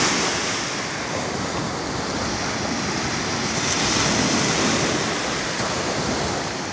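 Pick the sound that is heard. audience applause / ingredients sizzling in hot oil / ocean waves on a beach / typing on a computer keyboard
ocean waves on a beach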